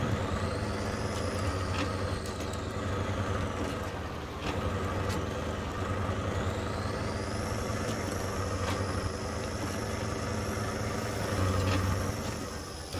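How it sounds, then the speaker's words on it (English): A truck in the SnowRunner video game pulls away after its handbrake is released, with a loud, steady engine drone and whining gear tones that rise and fall, plus brief air-brake hisses, and no voices. "Handbrake release. just get moving."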